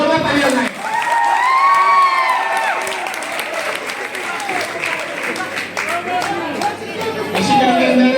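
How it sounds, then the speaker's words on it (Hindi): Loud applause and cheering from a college program audience honoring a student, sustained clapping with shouts and chatter, a microphone whine ringing over the crowd. "तो एक बार इनके बहुत जोरदार ताली बजाएं"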